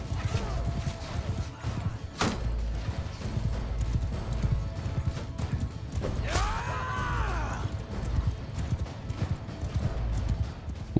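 Horse hooves clip-clop steadily through a noisy Bannerlord battle, the mounted rider's horse heard close amid creaks, clatter and a brief whinny-like cry, with some talk over it.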